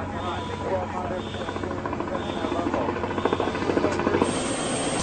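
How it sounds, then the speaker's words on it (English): Helicopter rotor chop building steadily and getting louder as it approaches, with a droning engine underneath. "There's an unscheduled helicopter approaching."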